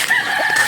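A rooster's crow, caught as a short sustained mid-pitched fragment, loud and close, with no talking over it.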